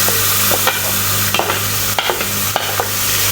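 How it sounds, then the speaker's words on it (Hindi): Very hot ghee poured over tomatoes for an aloo gobi sets off a loud, close sizzle, with a stirring hiss and several sharp scrapes and spits breaking through the constant frying noise. "मैंने घी को काफ़ी गर्म किया हुआ था ना, तो ये जो टमाटर पे डाल दूँ, ये काफ़ी गर्म हो चुका है"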